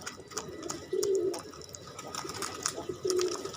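Domestic pigeons at a feeding spot give two low, soft coos, one near the start and one near the end, over faint background rustling and scattered clicks.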